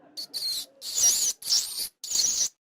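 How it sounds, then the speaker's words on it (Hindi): Mice squeaking: a quick series of five or six high, scratchy chirps in close succession, faint and fairly near, with no talking. "चूहों की आवाज है क्या?"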